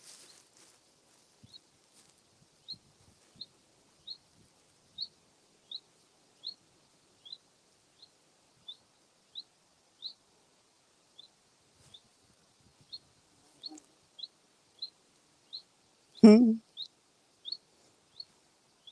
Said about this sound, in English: that bird you can hear is a chaffinch.